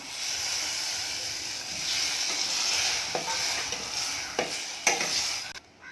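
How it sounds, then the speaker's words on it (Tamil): Tamarind extract poured into brinjal gravy frying in a pan, a steady loud sizzle and hiss with stirring, scraping and a few sharp clatters toward the end. "இப்போ நம்ம புளி கரைசலை ஊற்றிக்கலாம்"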